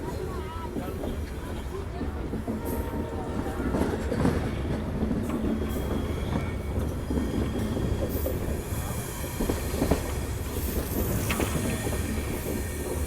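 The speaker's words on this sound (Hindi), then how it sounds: "ये देखो ट्रेन चलते चलते अचानक से रुकी।" Saurashtra Mail passenger train rolling on rails after crossing the Aji River bridge near Rajkot, a steady dense rumble with wheel clatter and faint squeals, heard from on board at constant loudness, with voices murmuring underneath.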